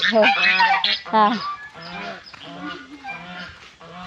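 Goose honking close by: a series of loud, harsh, nasal honks in uneven bursts, several overlapping calls repeating over a few seconds.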